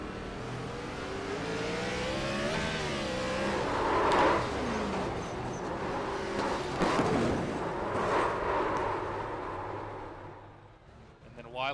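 Race car engine roaring continuously on board during a NASCAR-style race at Dover in a racing video game, with pitch sweeps as the throttle rises and falls and brief tire-spin bursts, with a voice talking over it throughout.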